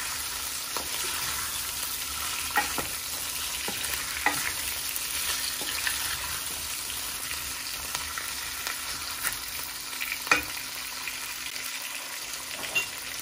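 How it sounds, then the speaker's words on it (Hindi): Potatoes for aloo bhujia frying slowly over a low flame, a steady soft sizzle with occasional spoon clicks and scrapes against the pan as they are stirred now and then. "आलूओं को तकरीबन हमने 15 मिनट तक कुक करना है स्लो आग को भूनना है"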